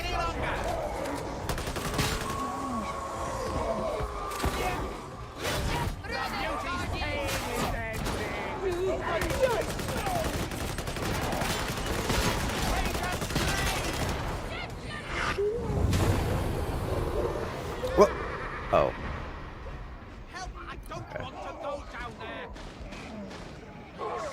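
Braced autogun fire in Warhammer 40,000: Darktide, rapid bursts of automatic shots rattling almost continuously, with other battle sounds mixed in and a player talking over the shooting.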